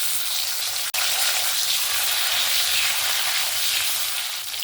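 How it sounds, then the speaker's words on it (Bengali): Potato pieces frying in hot oil for an Echor Chingri dish, giving a steady, dense sizzle that holds throughout, with one sharp click near the start. "প্রথমে আলুগুলোকে ভেজে নেব।"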